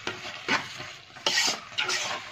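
A spoonful of ghee melts into a pan of caramelized sugar, sizzling and crackling steadily while a spoon scrapes and stirs in several rhythmic strokes, close and clear with no talking.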